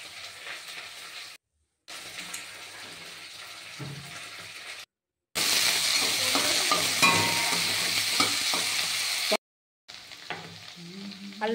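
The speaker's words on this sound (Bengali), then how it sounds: "এবার আমি দিয়ে দিচ্ছি আলু। আলুটাকে একটু লাল করে ভেজে নেব।" Potato pieces fry in oil in a pan, a steady close sizzle with intermittent stirring scrapes, broken by a few short cuts of silence.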